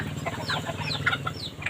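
Chickens clucking nearby in a busy setting, several short overlapping clucks and squawks over a low steady background hum.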